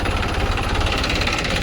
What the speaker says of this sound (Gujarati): તો આ આપણું ટ્રેક્ટર છે.